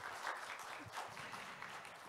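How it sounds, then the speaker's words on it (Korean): Warm applause from a seminar audience closing a forum session, a soft continuous patter of many clapping hands, fairly faint and steady with no voices over it. "뜨거운 박수와 함께 마치도록 하겠습니다"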